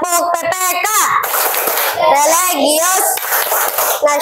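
Fourth-grade class performing the Tepuk PPK chant, children's voices chanting in unison with sharp rhythmic hand claps punctuating the phrases, loud and close.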